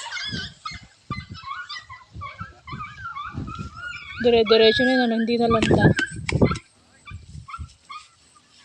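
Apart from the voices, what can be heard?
dogs barking at neighbor's house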